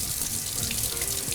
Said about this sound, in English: So what I'm gonna do is turn on the cold water,